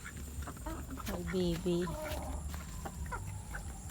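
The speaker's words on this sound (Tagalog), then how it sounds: "papakain ng manok at pato" Chickens and ducks being fed in the morning cluck and quack close by over a steady low outdoor hum, while a person speaks briefly.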